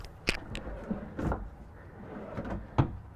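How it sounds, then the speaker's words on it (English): Full-extension dresser drawers in a 2022 Newmar Dutch Star 4328 motorhome slide open and shut, giving a few separate wooden thumps and runner rumbles spread over a few seconds, fairly close and moderate in level, with no voices. "These drawers, of course, are also full extension, really deep"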